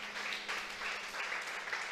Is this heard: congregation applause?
yes